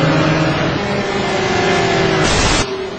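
GT race cars in a sim racing game scream along in a sustained, loud engine whine with shifting pitch, a brief burst of brighter noise near the end before the tone settles.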